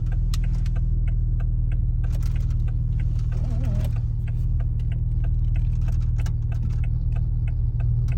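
A car fitted with a Leviathan turbo-back exhaust settles into a regular warm idle, giving a steady, deep, even rumble with faint ticking over it and no talk.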